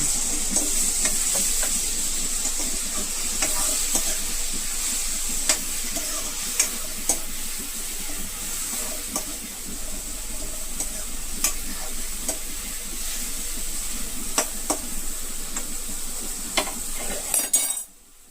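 Cumin and garlic fry on a stove for a red chilli chutney, giving a continuous sizzle with frequent sharp clinks of a spoon against the pan before the sound cuts off at the end.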